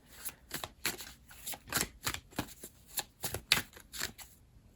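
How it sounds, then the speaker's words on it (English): Tarot cards being shuffled in a series of quick riffling bursts, close and moderately loud, with brief pauses between. "I just shuffled a few cards."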